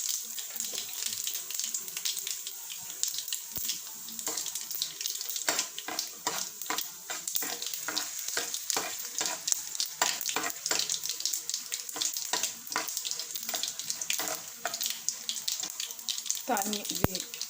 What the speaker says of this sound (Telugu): పోపు వేగిపోయింది ఫ్రెండ్స్, గ్యాస్ స్టవ్ ఆపేసేసుకుందాం.